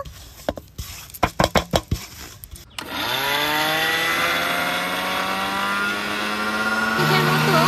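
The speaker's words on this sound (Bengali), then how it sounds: "মিক্স জারের মধ্যে দিয়ে 2 মিনিটের মতো ঘুরিয়ে নেব।" A kitchen mixer grinder spins homemade Glucon-D powder in its jar. A few clicks and rattles come first, then the motor whirs up to a loud, steady high-pitched whine that continues to the end.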